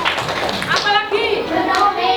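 Schoolchildren in a fourth-grade class clap their hands in a brief burst, mixed with and partly covered by an adult's speaking voice close by.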